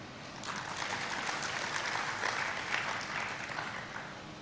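Audience members at a special session on professional ethics clap together, producing a soft, steady wash of applause heard from a distance, with no voices over it.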